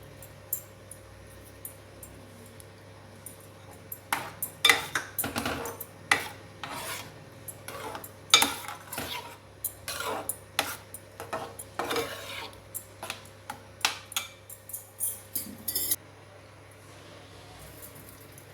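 Soaked saffron goes into sweet pongal in a pot, then a spoon scrapes and stirs against the metal in irregular, close rasping strokes over a faint steady hum, with no talk.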